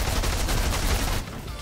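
Minigun fire in the video game Fortnite, a loud continuous burst of rapid gunshots that cuts off abruptly near the end.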